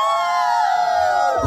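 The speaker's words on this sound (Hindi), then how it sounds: "लड़की वाले थोड़ा चिल्ला के बताइए।" Guests from the bride's side at a Marwari wedding shouting and cheering, a loud sustained crowd roar with whoops and high voices throughout.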